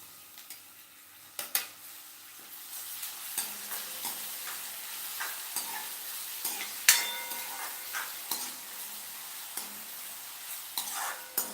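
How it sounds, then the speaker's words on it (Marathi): Tomato is sautéed with onion in a pan for a sprouted moth bean curry, with a quiet sizzle under frequent spatula scrapes and sharp metallic clinks against the pan. "टोमॅटो एक दोन मिनिटासाठी चांगला परतून घ्यायचा"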